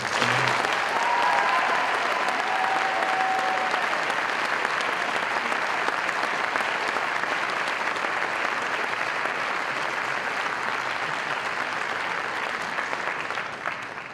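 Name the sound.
audience applauding at awards night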